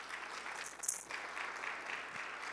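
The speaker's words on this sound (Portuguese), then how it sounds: "E aí temos uma salva de palmas para eles." A congregation at a Brazilian church gives a round of applause for missionaries, producing faint, brief, steady clapping heard from a distance.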